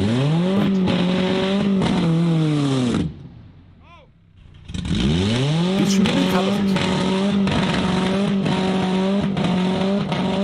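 A VW Golf 4 rolling driverless in second gear across a field, its engine droning loudly and steadily with a rising and falling pitch and a brief dip near the middle, as people talk over it.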